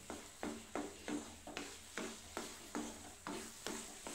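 Onion, tomato and spices sautéed for kadala curry, a steady spatula scraping and stirring in a regular rhythm of about ten strokes over a soft, continuous sizzle, close and moderately quiet.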